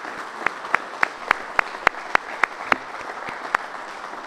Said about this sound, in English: could we give a round of applause for the members of the General Assembly?